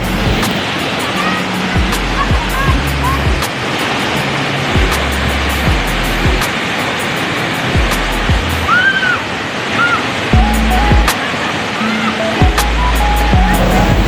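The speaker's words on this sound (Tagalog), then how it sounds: "Ang Mintingkalong Falls usab makita kini sa sitio Kibalabag, Barangay Binikalan." A waterfall at Mintingkalong Falls in sitio Kibalabag, Barangay Binikalan gives a steady, full rushing roar of falling water that carries unbroken throughout, with faint tonal sounds beneath.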